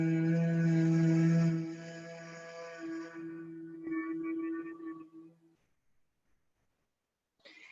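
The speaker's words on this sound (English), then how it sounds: "as you exhale, exhaling to the nose only, you create a humming sound" A person doing bumblebee breath in chair yoga, exhaling through the nose only to make a steady low hum that fades out over several seconds, fairly quiet and close.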